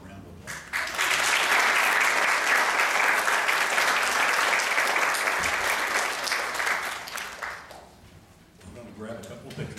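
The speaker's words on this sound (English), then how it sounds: "Let's give him a round of applause" A church congregation applauds a newly ordained Church of God minister with loud, dense, sustained clapping that swells quickly, holds for several seconds, then tapers off as a voice returns.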